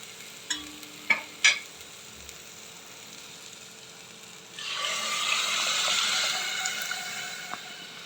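Cooked lentils are tipped into a hot spice tempering, and a few clanks of a spoon on the pot are followed by a sudden loud, steady sizzle and bubbling that continues to the end.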